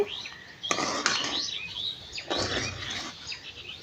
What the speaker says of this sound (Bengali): দিয়ে খুব সুন্দরভাবে আমি নেড়ে চেড়ে নামিয়ে নেব